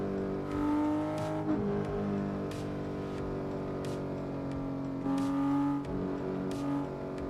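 A Porsche with a manual gearbox driven in the Assetto Corsa racing game, its engine holding a steady, loud drone with pitch shifts as the revs rise and fall between gear changes.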